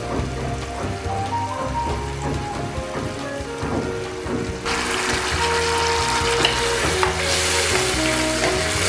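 Chicken with pumpkin sizzles and fries in a pan, a dense steady crackle close by that turns louder and brighter partway through, with occasional stirring scrapes and no voices.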